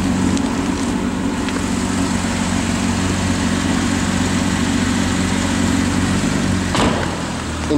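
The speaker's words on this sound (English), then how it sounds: "And you can hear how the engine sounds." A 2006 Porsche Cayman S coupe sits idling, its engine giving a steady, smooth low rumble at a constant level throughout, with a brief rise in activity near the end and no talking.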